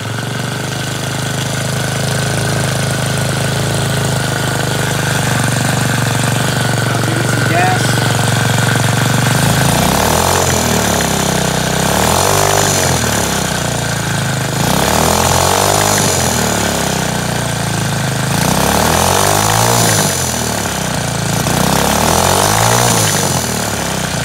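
A small engine driving a centrifugal clutch starts up and runs, its note rising and falling in repeated throttle surges, a loud, close mechanical whine and rattle with an idle-like hum between bursts.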